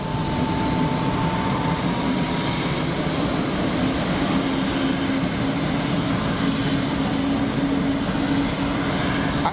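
A Boeing 787 Dreamliner departing Geneva Airport makes a loud, steady jet engine roar, a broad continuous rumble with a faint whine layered on top that holds evenly the whole time.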